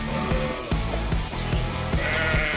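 Sheep bleat on a New Zealand farm over a constant rumbling mechanical drone, with several short rhythmic knocks repeating in the background.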